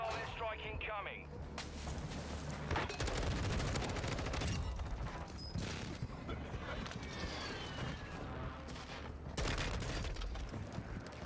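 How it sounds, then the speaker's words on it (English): Gunfire and explosions from an airstrike in Call of Duty Warzone 2 on the Vondel Resurgence map, with repeated loud bursts, booms and crackling shots throughout, and talk heard over the noise. "Hostile airstrike incoming."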